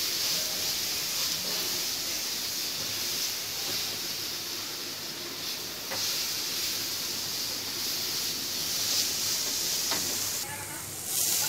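Potato masala for vada pav and sandwiches roasts in a pan with a steady, close sizzling hiss that stays constant throughout, while a voice talks over it at times.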